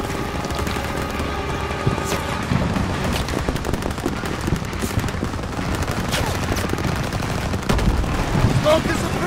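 Dense gunfire and bursts of automatic weapons in a World War II battle from Call of Duty: WWII, loud and continuous with booms, shouted commands heard faintly amid the din.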